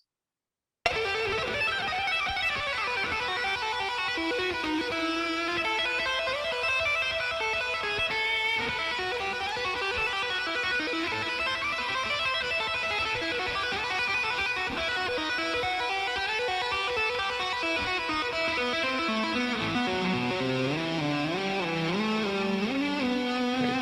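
Rock guitar plays a fast, continuous run of distorted notes with bends and wide pitch swoops near the end, steady and loud after a brief silent start, with no talking.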